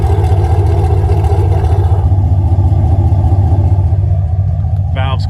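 A 2017 Camaro SS with the LT1 V8 and a valvetronic exhaust, valves closed, idles in a loud, deep and steady rumble close by, and a short voice cuts in right at the end.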